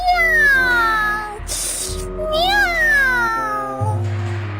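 A cartoon cat meows, a voice imitating the cat with drawn-out rising and falling cries over steady background music, loud and close.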